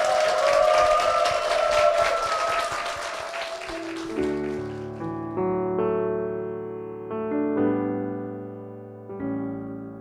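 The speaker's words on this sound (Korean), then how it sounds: "우리 선교사님께 큰 축복의 박수 부탁드리겠습니다" Church congregation in Korea applauding to bless a missionary: a thick burst of clapping fills the first few seconds, then fades away as sustained worship music and singing take over.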